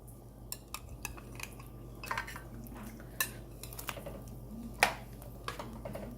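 Salted pigtail going into a pot of boiling split peas for Surinamese split pea soup: quiet clinks and scrapes of utensils against the pot, scattered irregular knocks over a low steady background.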